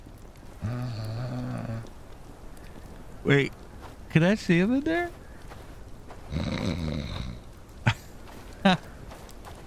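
Characters in the medieval survival game Bellwright snore in drawn-out, rasping breaths, several separate snores rising and falling between quiet gaps, while someone speaks briefly over them.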